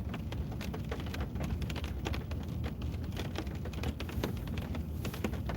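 Steady rain falls at 34 degrees during ice fishing, producing a continuous close patter of drops with scattered sharper taps on a hard surface, with no talk over it.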